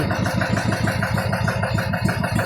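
A boat's engine runs steadily on a fast-flowing river in Palawan, a continuous mid-pitched drone with a regular pulsing throb, close and loud throughout with no other sounds over it.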